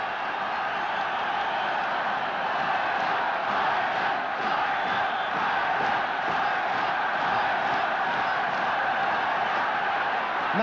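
A dense football stadium crowd roars steadily after a Don Givens goal in the Republic of Ireland versus Soviet Union match of 1974, a constant wall of cheering and shouting with no break.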